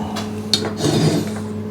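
A metal special beading tool is picked up and handled during work on a Royal Enfield Bobber motorcycle, giving a few short clinks and scrapes close by, with a brief sharp metallic tap near the start and quiet workshop hum underneath.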